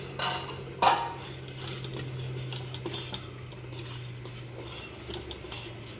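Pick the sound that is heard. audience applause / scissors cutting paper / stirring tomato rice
stirring tomato rice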